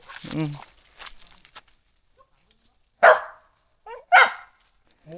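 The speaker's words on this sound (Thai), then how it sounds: "เห่าไปเรื่อยๆน" A dog in a rural Thai or Lao setting gives a few sharp, loud barks spaced a second or so apart, with people talking before them.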